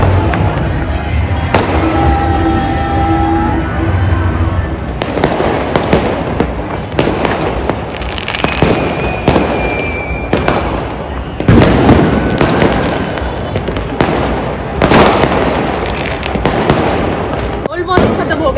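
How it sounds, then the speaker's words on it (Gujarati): Firecrackers bursting at an evening Uttarayan kite-festival celebration, a dense run of sharp bangs and crackles at irregular spacing for a long stretch, with whistling rockets, crowd noise and people talking mixed in. "बहुत ज्यादा जोरों शोरों से पटाखे फूट रहे हैं"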